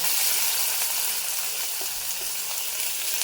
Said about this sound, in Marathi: हिरवी मिरची परतून झाली की मी कांदा टाकला।